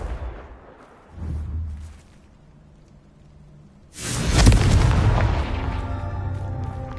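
Confringo fire spell in Hogwarts Legacy: a soft whoosh and low rumble, then a loud booming fiery explosion that bursts in suddenly and rumbles on for several seconds.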